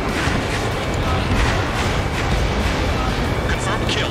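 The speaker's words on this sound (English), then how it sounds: "Spear 15, missile away." Missile launch and explosion in the combat flight game Ace Combat 7 during a pipeline destruction mission, a dense roaring rumble with booming blasts throughout, under radio chatter.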